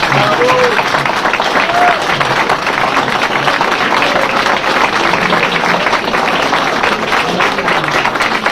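Sustained, loud applause from the audience at a 2019 Florissant mayoral candidate forum, a dense, even roar of many hands clapping for the candidates, with crowd voices mixed in underneath for the full stretch.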